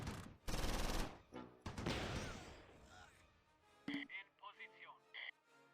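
Gunfire sweeps down a trench in the Close Combat war game, with two loud bursts of shooting early on, followed by fainter clatter and short electronic beeps near the end.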